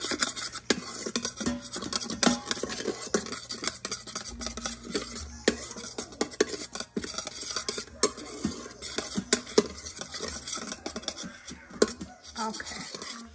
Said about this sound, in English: I'm gonna mix that up. Make sure to grab all those drippings that you got under there.